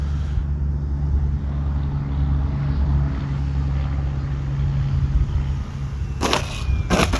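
An FMS P-47 Razorback RC plane lands under throttle with a steady, low propeller drone. Near the end come two brief, loud scraping bursts as it touches down and bounces.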